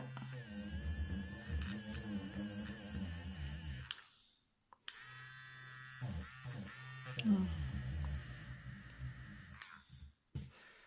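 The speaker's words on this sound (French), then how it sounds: "Alors j'ai ma gomme Derwent électrique." A small motor whirs in bursts, stopping and starting several times with clicks and scratchy rubbing, a Derwent handheld electric eraser working on paper.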